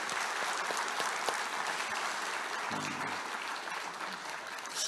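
At a general meeting of newly elected National Assembly members, the room fills with sustained applause, a dense clapping wash with a few sharper claps standing out.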